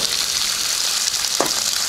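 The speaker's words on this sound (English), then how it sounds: "I love the sizzle of that bacon." Bacon sizzling and frying on a Blackstone griddle outdoors, a steady bright crackling hiss up close with a brief scrape partway through.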